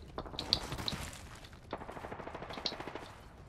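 Rapid bursts of R99 submachine gun fire in the Apex Legends video game, moderately distant, with several quick volleys rattling across the clip and no one talking.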